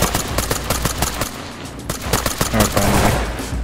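Rapid bursts of gunfire in the tactical shooter game Ready Or Not, with dense repeated shots and impacts filling the clip at close range, loud and continuous.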